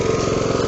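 A Honda HRB 535 lawnmower engine runs at a steady idle, a loud, close, evenly pulsing mechanical chug with no voices.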